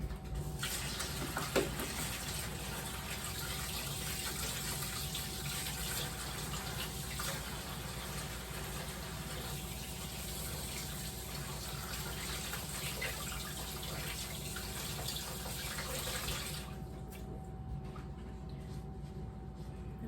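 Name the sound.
tap water running while washing hands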